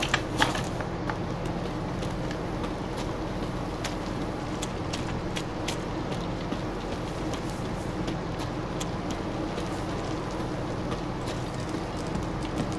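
Steady clip-clop of horse hooves at a walking pace in the video game The Witcher 3: Wild Hunt, moderately close, over a constant low background rumble with occasional faint clicks.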